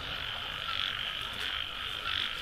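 Field frogs croak in a dense, steady chorus from a rice field at night, a continuous rasping trill that swells slightly in pulses.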